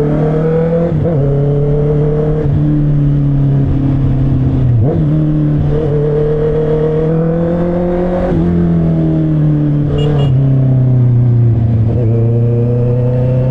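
A Honda CBR650R motorcycle engine during a test ride, loud and close, with a steady high drone that repeatedly climbs in pitch and drops through gear shifts while the bike accelerates along the road.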